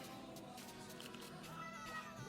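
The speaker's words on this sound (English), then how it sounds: "There's my cat." A house cat meows softly in a quiet indoor room, a faint, drawn-out call that sits well in the background with no talking over it.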